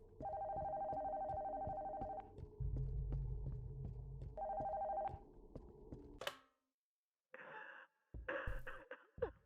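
A telephone rings in two long electronic trills separated by a pause, close and clear over a low rumbling drone, followed by silence and then brief scattered noises.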